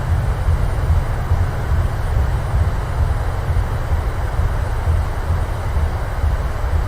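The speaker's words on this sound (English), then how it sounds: "Reversers are out." PMDG 737-800 thrust reversers roaring during landing rollout in Microsoft Flight Simulator, a steady loud low rumble with broadband hiss, continuous and unvarying, with no voices.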